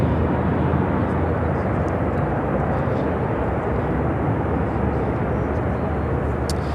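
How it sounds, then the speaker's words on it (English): An America West retro-livery Airbus A321 touches down on a runway at Chicago O'Hare, a dense steady jet roar of even loudness filling the whole span, no voices over it. "America West retro livery on this A321. Now touching down on 28 Center, coming in from San Diego, flight 489."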